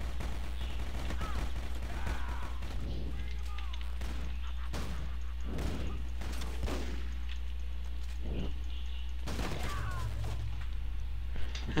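Gunfire in a video game: repeated sharp shots in scattered bursts over a constant low hum, moderately loud, with some background chatter.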